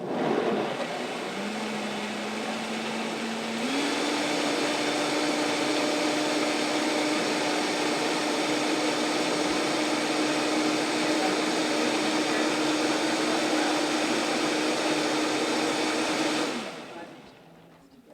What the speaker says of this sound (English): So this is a Vitamix, and it pretty much just dissolves everything.